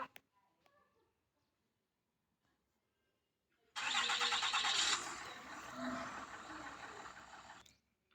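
A truck engine cranks and roars to life after a quiet stretch, then settles into a steady idle for a few seconds.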